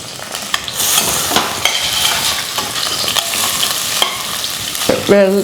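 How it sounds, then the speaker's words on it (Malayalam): Sliced ripe plantains sizzle and fry in ghee in a pan while a spoon stirs and scrapes them, a continuous close crackle with scattered clinks. "അപ്പം നമുക്ക് നെയ്യിലോട്ട് ചേർത്തൊന്ന് വഴറ്റിയെടുക്കുക."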